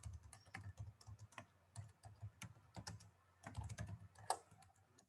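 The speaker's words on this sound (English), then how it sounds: "Now I type." Someone types on a computer keyboard with soft, uneven clusters of key clicks and short pauses between bursts, quiet and close, with nobody talking.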